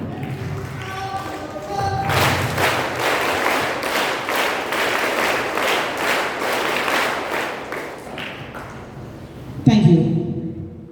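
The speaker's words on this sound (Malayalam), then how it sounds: "കയ്യടികളും." Applause from an audience at a school gathering honouring a young national cricket contestant swells for about seven seconds between stretches of a speaker addressing the room, then fades as talking resumes.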